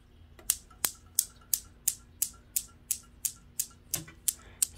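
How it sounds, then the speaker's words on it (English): A desktop Newton's cradle with steel balls clicking back and forth, a steady series of about thirteen sharp, evenly spaced clacks, close and quiet with no voices. "And Newton's cradle."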